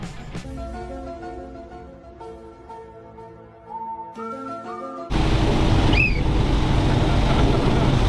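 An old, broken snowcat with passengers riding in the back drives along a snowy road: a loud, steady broadband engine and track roar starts abruptly partway through and continues to the end, after a stretch of tonal music.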